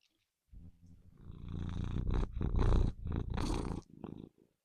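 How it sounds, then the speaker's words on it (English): Close-up cat purring, a rumbling rhythmic vibration that swells and fades over a few seconds, heard alone in a quiet room. "That's Monty saying hello"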